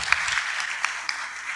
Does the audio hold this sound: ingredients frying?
no